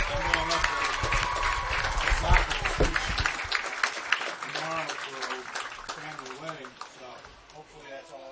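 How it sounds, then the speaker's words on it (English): Crowd at a high school football game cheering and applauding the homecoming court, loud and busy, mixed with shouts and an announcer's voice speaking over it. "Give your homecoming court another huge round of applause."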